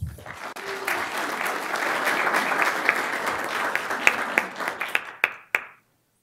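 An audience at a city council meeting bursts into applause, a dense round of clapping that swells, holds, then thins to a few scattered final claps before falling silent.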